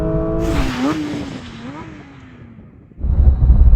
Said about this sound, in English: Oh, the ABS is going crazy.